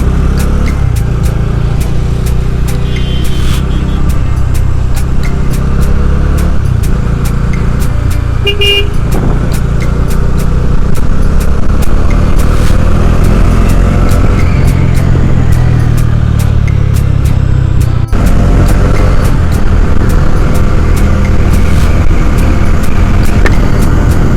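A bike riding along a road with steady engine and traffic noise throughout, a car horn tooting now and then over the continuous drone.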